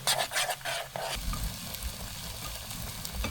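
Onions and peppers sauté in a pan at an off-grid swamp cabin, with a close, crackly sizzle and scraping stirs early on, settling into an even, low frying hiss throughout.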